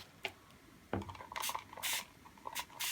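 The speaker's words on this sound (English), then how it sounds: "And again, use my spray bottle" Several quick hissing bursts of a spray bottle, spaced irregularly, each a short airy spritz close to the microphone, with faint handling sounds between.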